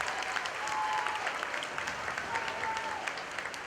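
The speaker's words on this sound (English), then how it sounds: "give these young people, all in the barn, a nice round of applause" Steady, dense applause from the crowd in a barn at a county fair 4-H and FFA market hog show, filling the whole short stretch at a constant level.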